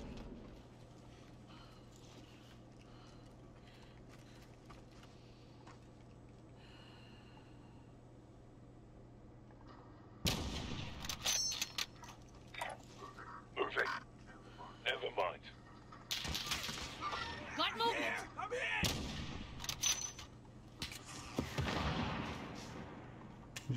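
Bursts of gunfire in the battle royale video game Call of Duty Warzone, loud close shots and rattling volleys breaking in after a quiet stretch, mixed with game sounds and voices talking over the action.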